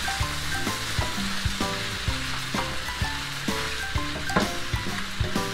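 Noodles stir-fried in a pan, a steady sizzle broken by repeated sharp clanks and scrapes of a utensil against the metal, close and busy throughout with no talk.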